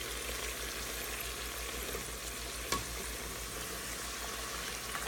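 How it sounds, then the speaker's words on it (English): Avocado deep frying in hot oil, a steady fizzing sizzle with a low hum beneath and one brief clatter partway through. "Make some deep fried avocado"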